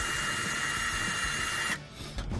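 A drill whines steadily at high pitch while boring a small starter hole for a hood pin screw on a 2008-2022 Dodge Challenger, then stops abruptly near the end, followed by brief handling noises.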